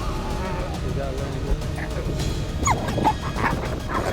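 A dog and a wolf fight, with yelps and whimpering cries rising out of a dense, constant rough noise bed, growing more frantic near the end.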